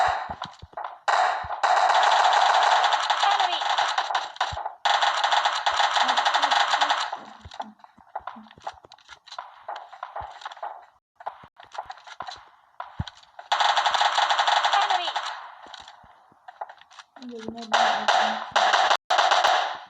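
Gunfire in an online shooter video game comes in rapid automatic bursts separated by short pauses. The shots are loud and near, with sharp clicks and small impacts between the volleys.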